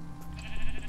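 A Minecraft sheep gives a short bleat in the video game, heard briefly and clearly over a steady background hum.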